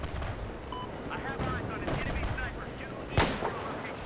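Gunfire from the video game Battlefield 4 Beta in a Conquest match on the Shanghai map: a dense stream of shots over continuous battle noise, with one loud close blast near the end and voices talking over it.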